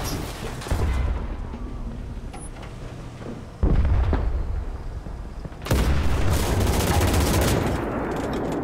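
Loud blasts in the World War II shooter game Enlisted, with a heavy boom near the middle and another toward the end, each followed by a ringing rumble over background gunfire.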